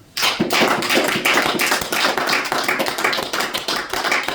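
A church congregation applauding in praise of the Lord, dense rhythmic clapping starting abruptly and continuing steadily, loud and close, without speech.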